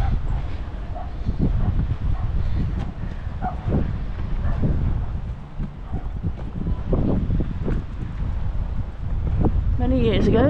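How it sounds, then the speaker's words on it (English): A dog barks repeatedly at a windy seafront harbour by a pier, its yelps carrying at moderate distance through steady wind noise and ambient crowd chatter, with a sharper burst near the end. "That dog's still giving it some."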